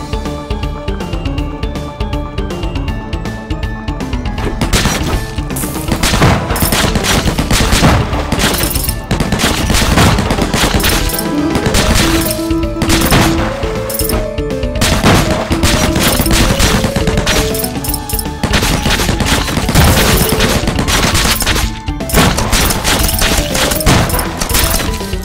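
Sustained heavy machine gun fire in the video game Undead Squad, loud and dense rapid bursts with booms and crashes mixed in, running almost without pause over game music.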